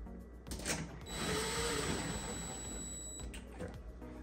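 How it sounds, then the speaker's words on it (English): A power screwdriver drives screws back into a Zephyr vent hood, a faint steady whirring burst lasting about two seconds amid quiet handling clicks close by. "You got three screws to put back in."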